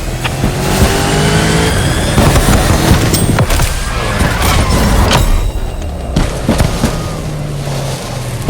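Car engines roar loudly and continuously in The Crew Motorfest racing game, with revving pitch sweeps and dense mechanical noise sustained through the whole stretch, no voices over it.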